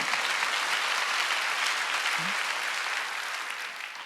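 Congregation applauding during a Sunday worship service at a church, a dense steady wash of many hands clapping that holds level, then eases slightly toward the end.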